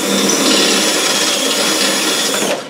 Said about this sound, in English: All it takes is a little bit of patience with the 3/16 drill